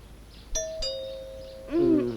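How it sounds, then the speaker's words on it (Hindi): A two-tone electronic doorbell chimes in a home, a bright ding followed by a sustained dong, ringing once clearly against a quiet room before a voice begins speaking. "घंटी बज रही है"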